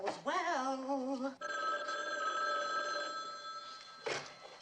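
A landline telephone in a home rings loudly with a trilling bell, a long continuous ring followed by a brief second burst, heard on its own without any voices.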